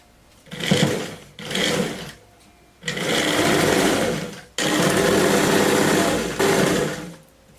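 Sewing machine hems fabric in a run of close, loud bursts of rapid stitching, some short and some several seconds long, with brief pauses between them.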